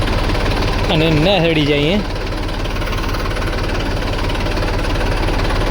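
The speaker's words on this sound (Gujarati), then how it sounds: "ટ્રેક્ટર ચાલુ તો થઈ ગયો હે," A Mahindra tractor engine runs at a steady idle, a loud low rumble that continues throughout, with someone speaking briefly over it near the start.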